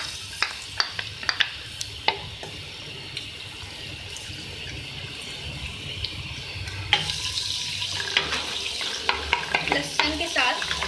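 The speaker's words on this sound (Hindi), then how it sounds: "लहसुन को अपने ऑयल में फ्राई करना है।" Garlic fries in oil in a home kitchen pan. A few sharp stirring clicks and scrapes come first, then a dense, loud sizzle takes over and keeps crackling steadily.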